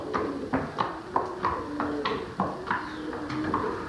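A horse walks with steady clip-clop hoofbeats, about two to three strikes per second, fairly close and even, with no talking.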